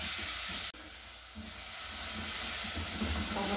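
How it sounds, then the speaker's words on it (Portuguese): Chopped onion sizzles in a pan of browned garlic, giving a loud, steady frying hiss after a sharp clack near the start. The sizzle swells slightly and then holds, with no voices. "A nossa cebola já fritou"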